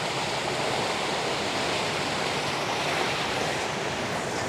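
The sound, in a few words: water flowing at a water wheel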